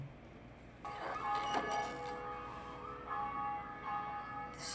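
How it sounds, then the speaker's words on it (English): A deep gong in The Nun horror movie trailer strikes and rings out with a long, bell-like sustained tone, followed by further resonant swells, loud and with no talking over it. "Gong."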